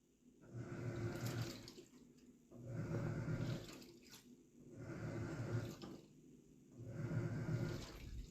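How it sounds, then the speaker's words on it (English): A BLACK+DECKER 2.0 cu. ft. small portable washer agitates its load in regular sloshing bursts, each lasting about a second and a half with short pauses between them, quiet and close. "very quiet. It's washing."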